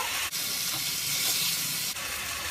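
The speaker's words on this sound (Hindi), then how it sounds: "दो मिनट भून लेंगे इसको" Chicken tikka karahi sizzles steadily in a hot pan, a dense, continuous frying hiss with a brief stir or scrape near the start and again toward the end, with no talking.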